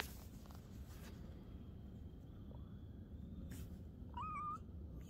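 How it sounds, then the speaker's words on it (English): A pet cat gives a short rising meow near the end, heard faintly over steady low indoor rumble with little else happening before it. "What are you doing, kitty cat?"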